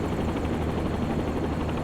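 Helicopter in the X-Plane 10 flight simulator touring over St. Louis, a steady droning rotor and engine roar with rhythmic blade chop, loud and continuous with no talk.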